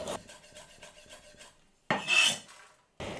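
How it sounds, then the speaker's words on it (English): A knife slicing red chillies on a board for a roasting-pan broccoli dish, a run of quick, even cuts followed by a few louder scraping strokes with short pauses between. "what I'm going to add to it is some red chillies that I'm just going to slice"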